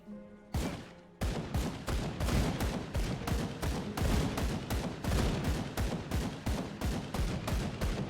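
A flame-shooting weapon in the Grim Dawn video game fires in a rapid, steady volley of loud, sharp bursts that repeat for several seconds with no talk.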